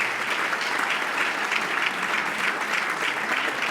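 Dense, steady applause from a festival audience in Ponzano Veneto, cheering young singers from the local districts; loud and continuous, with no voices over it.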